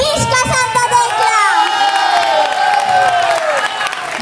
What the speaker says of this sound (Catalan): mira quin aplaudiment